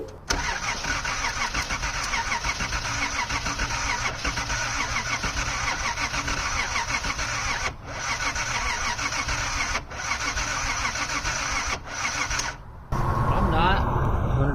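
A 1979 Datsun 280ZX with newly replaced injectors and a weak battery cranks and catches, then runs as a steady loud engine drone that continues for many seconds, dipping briefly a few times before ending abruptly.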